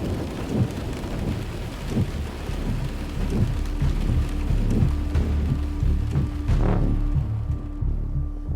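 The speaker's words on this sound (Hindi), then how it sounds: "बारिश हो रही है मारवाड़ के इस इलाके में" Heavy rain falls steadily in the Marwar region of Rajasthan, a constant dense hiss of drops with low rumbling thunder rolling underneath, loud and continuous with no talk.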